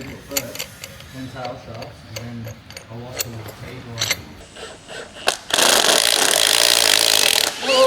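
Gear puller working a low-range reduction gear off its bush during a Toyota 1HZ install: scraping, ticking metal strain under talk, then a sudden loud burst of clattering noise as the gear breaks free near the end.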